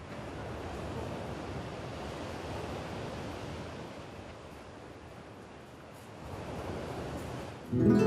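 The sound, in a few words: sea waves in April, Majorca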